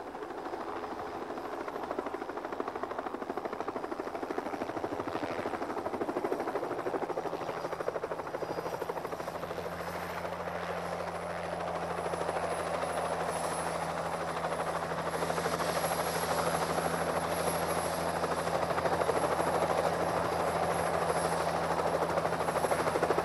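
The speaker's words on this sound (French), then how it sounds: "Un hélicoptère." A helicopter flies steadily overhead for the whole stretch, its rotor drone and engine whine holding a continuous loud presence that swells slightly toward the end, with no one talking.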